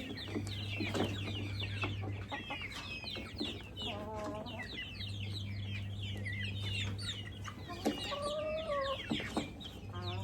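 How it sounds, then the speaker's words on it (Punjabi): Hens cluck and chicks peep in busy overlapping calls nearby, with a steady low hum running underneath. "ਚੂਚੇ"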